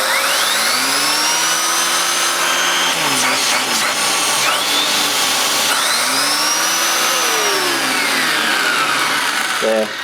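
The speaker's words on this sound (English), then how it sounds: "Just have a quick, brief look at the turbo nozzle" A Hoover Blaze Pets bagless upright vacuum cleaner runs with its turbo nozzle, a steady loud whine and airflow that rises and falls in pitch as the brush slows and speeds up, with brief clattering handling noises.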